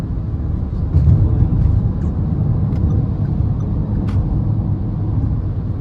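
A 2023 Perodua Alza H on a daytime test drive, its engine and CVT giving a loud, steady low-pitched drone and road rumble heard from inside the cabin, with no talking.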